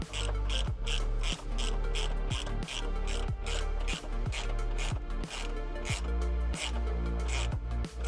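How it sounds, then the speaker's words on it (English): A ratchet tightening the airbox bolts on a 4th-gen Toyota Tacoma during a cold air intake install, rapid clicking strokes repeating in a steady rhythm close to the work, with no talking. "I'm going to tighten down these bolts holding this Airbox in."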